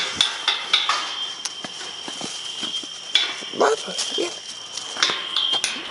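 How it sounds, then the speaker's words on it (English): Several dogs playing at a rural finca make scattered yips and scuffles mixed with clattering knocks and light taps at moderate distance, with faint voices now and then. "These are all the dogs."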